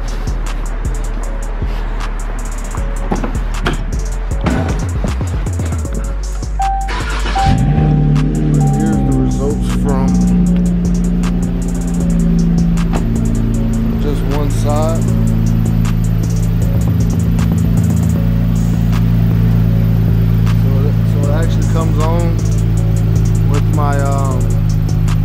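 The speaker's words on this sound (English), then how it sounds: "Let me go turn the car on." A 2019 Dodge Charger engine turns over around the seven-second mark and settles into a steady low idle, with clicks and faint handling noises before and during it.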